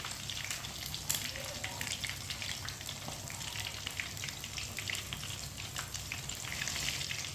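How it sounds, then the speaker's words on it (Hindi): Chicken fries in a pan with a steady, dense sizzle and crackle of hot oil, close and continuous throughout, with no voices. "ये वाली साइड से भी 2 मिनट के लिए फ्राई करेंगे।"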